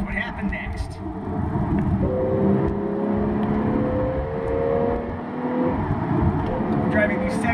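A 2015 Porsche 911 Carrera GTS with a 7-speed manual runs a lap at Willow Springs, its engine a steady droning whir that rises slightly under load, with a voice talking over it throughout.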